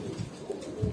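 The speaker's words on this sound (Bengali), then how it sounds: "এই যে এটা হচ্ছে ডিজিএফসি এর কবুতর" Racing pigeons in a loft give soft, low cooing throughout, steady and fairly close with no voices.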